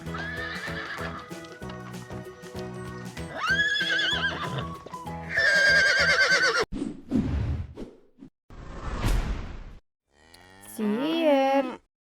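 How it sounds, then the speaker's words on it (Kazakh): Cow mooing, a long low bellow heard near the end after horse whinnies and clip-clopping hooves, loud and close with no talk over it. "Сиыр."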